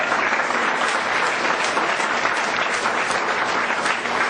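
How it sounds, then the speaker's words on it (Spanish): A congregation gives loud, sustained applause at a church gathering, a dense, steady wash of many hands clapping with no talk over it. "vamos a dar un fuerte aplauso de Dios"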